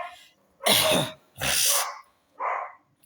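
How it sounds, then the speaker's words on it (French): Dog barking in short loud bursts, two harsh broadband barks followed by a softer, higher yelp, close by with no talk. "Pourquoi ces chiens-là aboient comme ça?"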